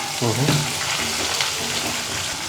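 Onion added to a pan and frying for a Karnataka-style chitranna gojju, a broadband sizzle running steadily and close throughout, with brief voice-like tones near the start.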